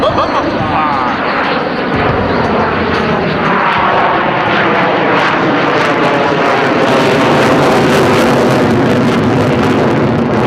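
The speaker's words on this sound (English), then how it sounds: "apply full afterburner, accelerating his aircraft into a nearly vertical climb, demonstrating the F-16's awesome thrust-to-weight ratio" An F-16 fighter jet at the 2012 California Capital Air Show, roaring loud and continuous on full afterburner in a near-vertical climb, with a broad rumbling thunder that swells slightly toward the end.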